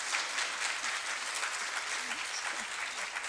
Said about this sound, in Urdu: اب تالیاں ہوئی